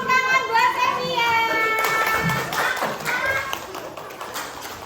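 Young children in a second-grade classroom clap together for a classmate, a brief burst of hand claps mixed with excited kids' voices, while an adult speaks over the start.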